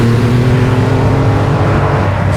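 A Triumph Rocket 3 Storm motorcycle engine pulls hard under throttle, a loud, continuous low-pitched drone with steady harmonics and rushing wind, close and unbroken with no talk.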